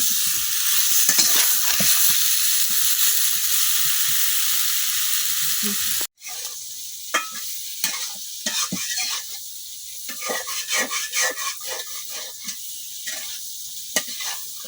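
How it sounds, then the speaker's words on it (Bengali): Eggplant pieces fry in oil with salt and turmeric, starting as a loud continuous sizzle, then after a brief cut turning quieter with irregular crackles and spatula stirring sounds. "এখন লবণ আর হলুদের সাথে বেগুনটা আমি কিছুক্ষণ ভাজি করে নেন।"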